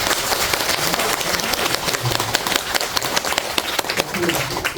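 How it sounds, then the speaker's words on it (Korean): A crowd applauds steadily throughout at a Buddhist temple service, a dense wash of many hands clapping at close range. "큰 박수로 주십니다"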